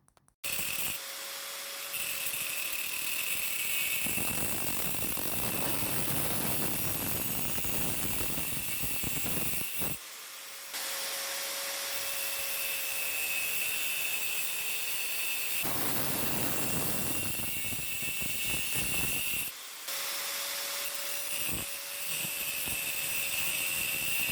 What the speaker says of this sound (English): Here I'm using the grinder to cut the pipes off.